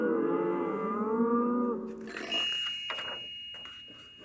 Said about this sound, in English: Y. Yak.